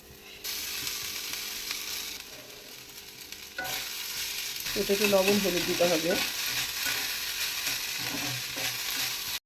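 Potato, carrot and cabbage frying in a pan, a constant close sizzle with faint spatula clicks, while someone talks over it partway through.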